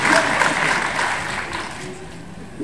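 Audience clapping in a comic convention panel room, a loud burst at the start that thins and fades over a couple of seconds, with voices murmuring underneath.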